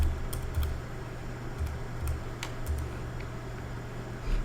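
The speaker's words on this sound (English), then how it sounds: "you type the word host and then you type in its IP address" Typing on a computer keyboard while entering router commands: scattered light key clicks at an uneven pace, faint and close, over a steady low hum.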